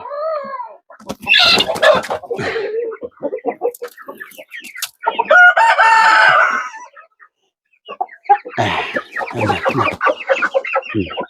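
Brahma chickens cluck and squawk up close, with a rooster's drawn-out crow rising among them in loud, overlapping bursts.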